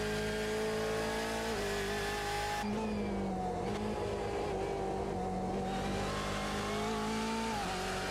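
A Ferrari race car engine at Imola in a sim racing game holds a steady high-pitched drone, dipping briefly on a downshift before climbing again, loud and continuous with no talk over it.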